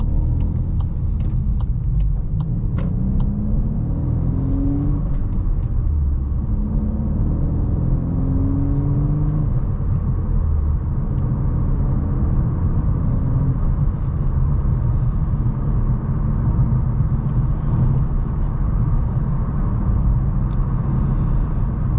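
A 2024 VW Golf R with a manual gearbox drives off on a public road, its engine giving a steady low rumble with rising revs through the gears, heard from inside the cabin without talk.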